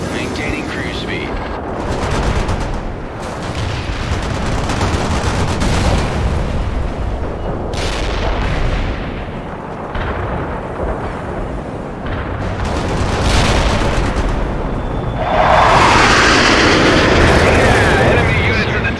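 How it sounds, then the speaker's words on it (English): Cluster bomb strike in the modern-warfare game World in Conflict: a dense, continuous barrage of rolling explosions and booms, loud and sustained with swelling bursts, under radio chatter from units. "Iceman heading out with cluster bombs"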